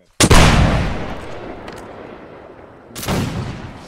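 Gunfire at a historical battle reenactment: one loud, sharp shot with a long rolling echo, then a second, softer report about three seconds later.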